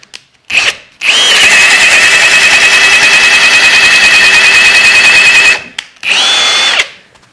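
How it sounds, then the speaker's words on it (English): A power drill drives a 38 mm (1.5 inch) bit into dense ash wood, a loud steady high whine lasting about four seconds after a short blip, then a brief second burst near the end, with no talking. "this is extremely dense wood and hard to drill, so I've had to reduce down to a 38 mil bit"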